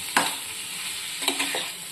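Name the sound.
stir-frying chicken sausages with turmeric and cumin powder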